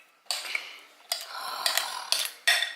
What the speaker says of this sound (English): we're gonna just mash it with the spoon a little bit